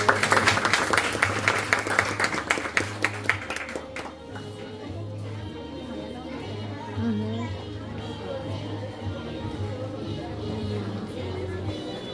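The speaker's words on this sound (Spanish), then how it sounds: "Un fuerte aplauso." A crowd at a family gathering for a child bursts into loud, rapid applause for about four seconds. The clapping then fades into chatter, children's voices and a steady low hum.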